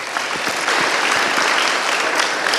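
An audience at a church gathering claps loudly for a child, a dense continuous wash of applause from many hands, close and sustained throughout.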